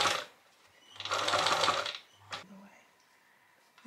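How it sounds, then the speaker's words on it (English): Sewing machine stitching a pleated apron made from upcycled denim jeans: one sustained whirring run of stitches in the middle, framed by brief mechanical clicks and short bursts, heard up close and without talk. "I'm actually just going to start sewing this on."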